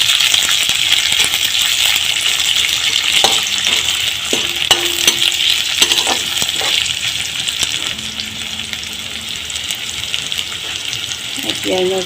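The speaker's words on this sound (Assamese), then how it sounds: "এতিয়া এয়া কাটি ৰখা পিঁয়াজ দিছোঁ। দি মই ভালকৈ লৰাই ভাজি লওঁ।" Chopped onions and a green chilli are stir-fried in hot oil with a bay leaf, giving a loud, steady sizzle broken by repeated clinks and scrapes of a spatula against the pan, close up, with no talking.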